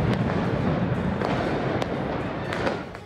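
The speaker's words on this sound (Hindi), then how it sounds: "धड़ाम धड़ाम करते पटाखे, इस मोहल्ले से उस मोहल्ले को अपनी आवाज से हिलाते पटाखे" Firecrackers and fireworks explode across Delhi neighborhoods, a dense, loud, continuous roar of booms with sharp cracks popping out repeatedly over the rumble.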